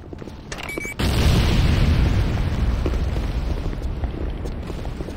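A GDI Weapons Factory blows up in the video game Renegade: a loud, sudden boom that stays as a dense, rumbling roar for several seconds, dying away only slightly toward the end.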